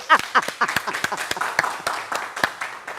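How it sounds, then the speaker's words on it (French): A small group claps by hand in a quick, uneven burst, the claps close and distinct, with no voices over them. "applaudissez!"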